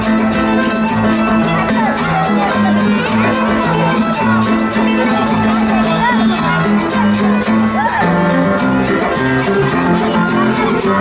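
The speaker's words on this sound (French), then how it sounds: "Merci de les applaudir très très très fort." An audience cheers for kindergarten children at a children's festival, with steady crowd noise, shouts and whoops running loud and unbroken, mixed with voices and music.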